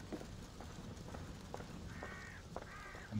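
A raven in Assassin's Creed Valhalla gives two faint, nasal caws in quick succession over a dull, clattering background.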